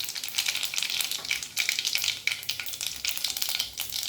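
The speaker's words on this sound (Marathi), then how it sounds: "मोहरी घालायची आहे मोहरीनंतर जिरे घालायचे" Mustard seeds and cumin sizzle and crackle steadily in hot oil or ghee while tempering for dal, a close, continuous hiss with scattered sharp pops.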